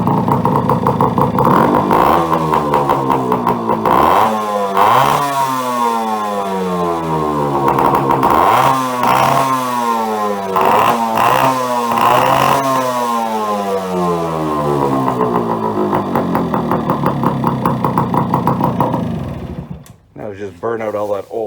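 A 1974 Yamaha RS100 two-stroke motorcycle engine, fitted with new reed valves and running rich on injector oil, revs hard in repeated rising and falling bursts over a steady idle, loud and close throughout, then cuts off near the end.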